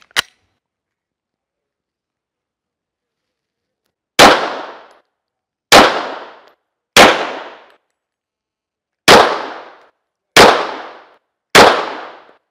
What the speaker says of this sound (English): So we're just going to have to shoot from open and see what's what.